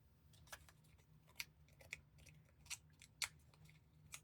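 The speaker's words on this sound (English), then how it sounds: "for like the smaller pieces, you can use your scissors." Scissors snipping small pieces of paper for a handmade craft project, a string of separate crisp clicks spaced roughly half a second apart, close to the microphone over a low steady hum.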